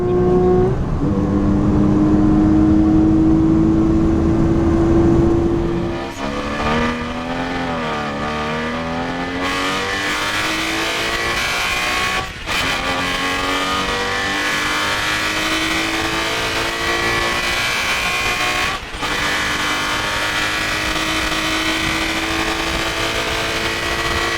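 A modified Porsche Boxster S engine revs hard and loud, pitch climbing and dropping through several blips, then holds a throaty rumble with brief sharp dips.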